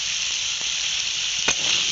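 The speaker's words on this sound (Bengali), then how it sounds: "আবারও ভেজে নেব" Potatoes frying in a pan with salt and turmeric give a loud, continuous bright sizzle, with a few brief crackles and spatters popping out of the steady hiss.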